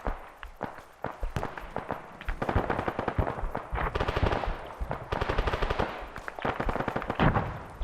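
Gunfire in the military video game Arma 3, with dense, rapid bursts of automatic shots mixed with single cracks, loud and continuous through most of the clip.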